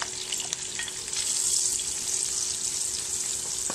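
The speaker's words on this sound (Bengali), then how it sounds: "এখন এর মধ্যে আমি দেবো পেঁয়াজ, রসুন, শুকনা মরিচ দিয়ে পেঁয়াজগুলো ভাজবো।" Onions, garlic and dried chillies fry in about half a cup of hot oil, giving a steady, bright sizzle and crackle throughout, with faint stirring and no talk.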